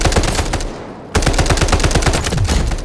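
Rapid automatic gunfire in the video game Delta Force, loud close bursts of machine-gun shots, a brief pause near one second, then sustained firing resumes.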